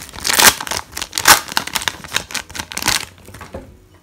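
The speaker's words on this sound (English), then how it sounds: "We can open this bag." Crinkly tearing and rustling of a Japanese Dragon Storm Pokemon booster pack bag being ripped open, with several sharp bursts of crackle close up and no talking.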